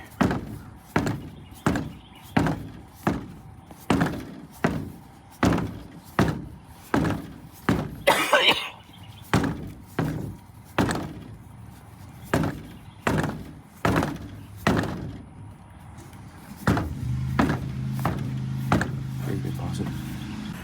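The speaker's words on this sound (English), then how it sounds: "spinning it around, banging it so that the foam gets there evenly" A tire filled with foam is spun and banged repeatedly, giving a steady series of loud thunks about every second, with a lower continuous rumble toward the end.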